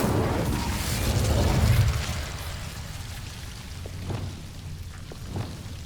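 A burst of fire from the Incendio spell in the Hogwarts Legacy video game, with a loud roaring whoosh over the first two seconds that fades into a softer crackling rumble, dotted with small pops.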